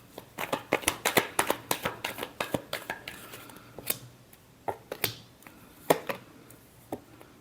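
Tarot cards being shuffled by hand in a series of quick, crisp riffling flicks, close and fairly loud at first, then thinning into scattered single snaps toward the end, with no talking.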